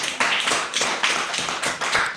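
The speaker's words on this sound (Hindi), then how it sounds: "बहुत अच्छा, ताली बजाओ इसके लिए।" A classroom of schoolchildren claps together, several loud bursts of hand claps in uneven waves, each swelling and fading, with no talking over them.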